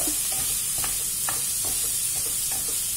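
Cauliflower is stirred in a hot pan, with scraping utensil strokes over a constant sizzle, close and fairly loud.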